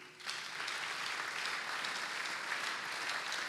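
A church congregation breaks into sustained, dense applause during a Sunday service, steady and loud from start to finish with a lively crowd texture.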